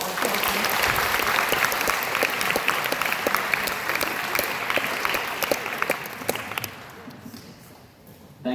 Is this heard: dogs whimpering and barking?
no